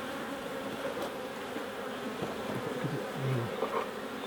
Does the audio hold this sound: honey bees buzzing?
yes